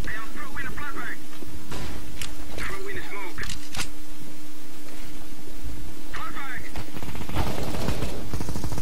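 In CS:GO, bursts of rapid gunfire and scattered shots rattle through a game soundscape with a steady hum underneath, while a voice talks in between.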